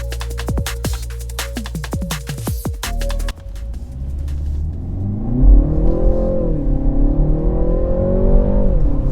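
A 2023 BMW 330i with a four-cylinder engine revs and accelerates while driving on a wet, rainy road. Sharp rhythmic clicks come first, then a loud, close engine climbs steadily in pitch.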